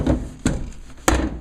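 Wooden kitchen drawers without proper tracks, sliding and knocking shut in three sharp, close thunks about half a second apart.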